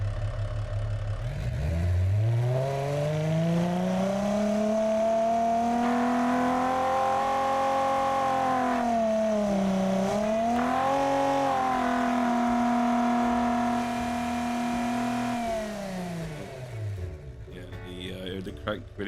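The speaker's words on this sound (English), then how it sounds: "Yeah, it sounds like a V6" Automation game V6 car engine revving hard to high RPM, climbing steadily, wavering at the top, holding a strained high note, then dropping away; loud, continuous and alone.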